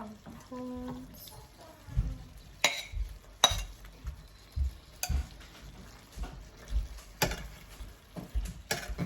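Prawns hit a frying pan and are stirred, giving scattered scrapes and clinks of a utensil against the pan over a low sizzle, with outdoor ambience around.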